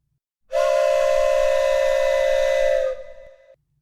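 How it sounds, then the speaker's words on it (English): A train's steam-style whistle blows as the train approaches a stalled car on the tracks, one long loud sustained blast that cuts off sharply, trailing a brief fainter tail. "I could hear its bell ringing and the cry of its whistle."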